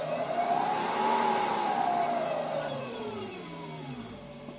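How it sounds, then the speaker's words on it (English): Electric motor driving a 100-year-old bench lathe runs steadily throughout, a continuous whirring hum with a slowly rising and falling mid-pitched whine, close and constant with no voices. "I just hooked up the other motor, and it seems to be running"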